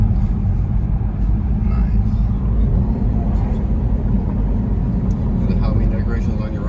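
Twin turbo BMW 440i on a test drive: steady road and engine rumble fills the cabin at an even level throughout.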